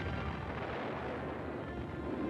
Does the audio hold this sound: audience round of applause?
no